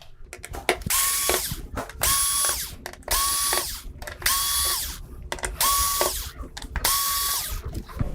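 Power screwdriver removing screws to free the main board of a Samsung UN46D6000SF TV, six whirring bursts of roughly a second each in an even rhythm, close and clear with short pauses between.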